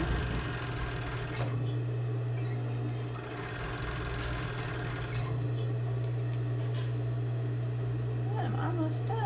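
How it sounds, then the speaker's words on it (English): Sewing machine stitching gathered fabric toward a pin, a continuous close motor hum with a steady low tone, running the whole time beneath intermittent quiet talk and handling noises. "Sewing it to the next pin."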